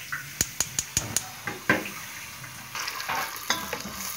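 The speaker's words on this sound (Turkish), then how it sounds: "Tereyağımızı koyduk. Şimdi biraz da sıvı yağ koyuyoruz. Bunun erimesi lazım." Butter and vegetable oil melt in a pan for Turkish flour halva: a quick run of sharp utensil taps on the pan, then a soft sizzle and scraping stir, close by.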